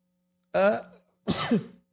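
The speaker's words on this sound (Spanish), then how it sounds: "Ya tengo que estornudar." Two sharp, loud sneezes from a person, close up and in quick succession, with no talk around them.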